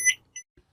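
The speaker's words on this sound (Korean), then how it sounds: "저전압 시에 표시창에 번개표가 깜빡임과 동시에 알람을 소리로 알려주는 설정입니다" A battery level meter's low-voltage alarm gives two short, high-pitched electronic beeps, a louder one and then a fainter one, in an otherwise quiet room.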